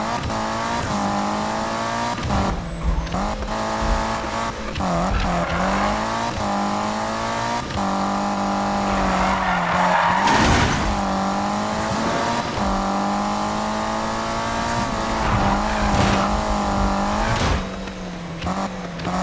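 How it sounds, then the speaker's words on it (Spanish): A turbocharged race car in Need for Speed (2015) revs and accelerates hard, its engine note climbing and dropping through repeated gear shifts, with tire squeals and brief bursts across a loud, continuous run. "Cómo suena ese turbo, loco?"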